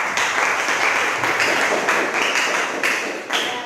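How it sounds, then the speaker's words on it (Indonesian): Schoolchildren applaud in a classroom, close rhythmic clapping in a steady beat with a few heavier taps, loud and sustained throughout. "Beri tepuk tangan untuk semuanya"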